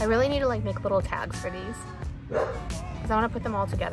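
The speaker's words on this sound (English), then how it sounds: "Sorry about the dog again." A dog barks and yips repeatedly at close range beneath someone talking indoors, the sharp barks breaking in between and over her speech.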